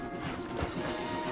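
Horse hooves clip-clop in Red Dead Redemption 2, a brief run of dull, busy hoofbeats blended with other game noise at moderate loudness.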